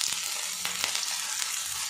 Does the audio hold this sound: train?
no